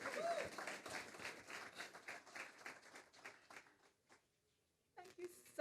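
Quiet applause from a crowd at a Jamaican consulate reception in New York patters steadily, then fades to near silence before a voice begins speaking.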